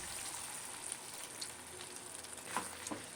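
Mutton liver that has been frying until the oil separates sizzles softly in a pan as a little water goes in, giving a faint, steady crackle with a few brighter spits.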